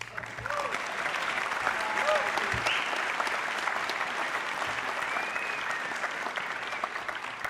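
Sustained applause from an audience at the 2025 Bridgestone World Solar Challenge awards ceremony, a steady dense patter of many hands clapping throughout, with a murmur of crowd noise underneath.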